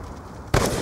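A concussion grenade detonates in Black Ops II, a single sharp, loud bang cutting in after a brief quieter stretch and ringing out with a noisy tail.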